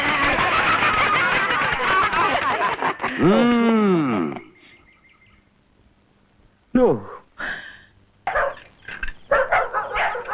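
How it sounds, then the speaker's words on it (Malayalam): Native dogs bark, yelp and whimper in an old Malayalam comedy film scene, loud and close, mixed with overlapping voices and sharp bursts separated by short quiet gaps. "നാടൻ പട്ടികൾക്ക് ഇത്ര ശൗര്യം ഉണ്ടെന്ന് എനിക്ക് ഇപ്പോഴാ മനസ്സിലായത്."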